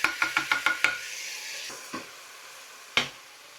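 Garlic tipped into onions frying in a pan for a home-style paneer curry: a quick run of sharp clinks and stirs over a steady sizzle, then the frying hiss carries on, broken by a couple of louder scrapes.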